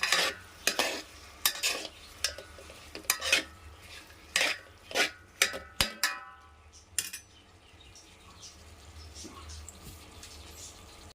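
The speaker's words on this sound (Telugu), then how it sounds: "సాల్ట్ వేసేసి తిప్పేసి మూత పెట్టేసి మగ్గ పెడదాము." A spoon stirs salt into eggplant curry in a metal pot, giving repeated scraping and clinking strokes against the pan with a soft sizzle underneath, close and fairly loud before settling into a quieter simmer.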